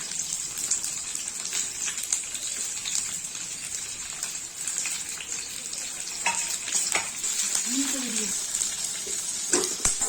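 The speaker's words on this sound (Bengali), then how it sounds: "হালকা একটু নেড়ে নিয়ে পেঁয়াজগুলো একে একে দিয়ে দেবো।" Onions and capsicum frying in a pan, a continuous close sizzle and crackle with intermittent stirring scrapes and small pops, no talk.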